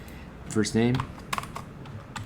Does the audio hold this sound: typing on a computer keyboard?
yes